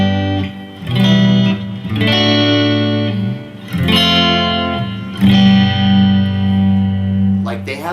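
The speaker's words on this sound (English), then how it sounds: "like certain chord voicings and they just don't work for that style. I mean, chords like this," Electric guitar chords strummed one after another through an effects unit with distortion, chorus and reverb, loud and ringing, each chord held for about a second or two before the next.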